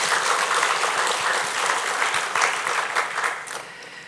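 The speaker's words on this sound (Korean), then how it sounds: "우리 수고하신 분들을 위해서, 그리고 우리 인내하신 모든 분들을 위해서 우리 박수로 한번 격려하겠습니다" A church congregation claps in encouragement, a fairly distant, steady wash of applause that holds for several seconds and then tapers off.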